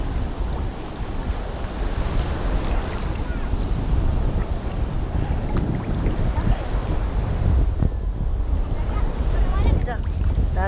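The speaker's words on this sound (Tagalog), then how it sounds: "Lakas ng alon doon" Strong surf crashes continuously with heavy, rushing water and wind buffeting the microphone, loud and close throughout.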